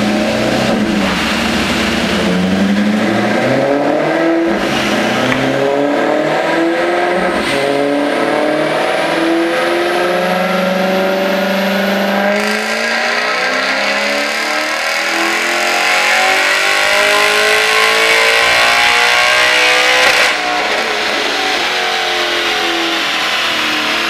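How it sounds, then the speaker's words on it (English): A Maserati GranTurismo S on a dyno revs hard and loud, its engine note climbing in long sweeping pulls, dropping back and rising again over about twenty-four seconds with no voices. "Maserati Gran Turismo S."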